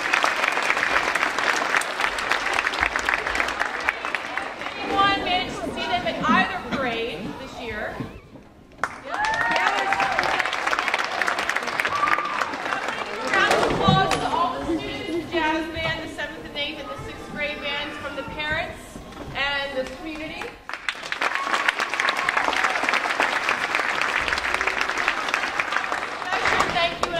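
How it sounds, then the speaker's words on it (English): Audience at a school winter band concert bursts into sustained applause, loud and steady for long stretches, with crowd chatter and an announcer's voice in a quieter middle section before the clapping swells again. "round of applause for Mr. Zadalis."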